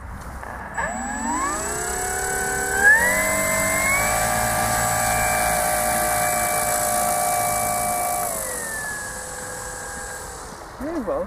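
An 86-inch Depron foam RC model AT-6 Texan's electric motor whines at quarter throttle, its pitch rising sharply, holding a steady tone, then dropping again, close by with brief speech.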